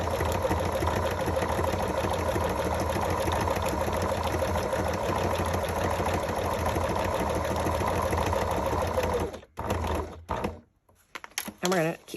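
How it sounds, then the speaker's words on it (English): Sewing machine stitching steadily along the edge of vellum or tracing paper, a continuous close mechanical whir for about nine seconds, then it stops and the needle clicks lightly once or twice. "this one we're going to sew right up to the very edge of the bottom"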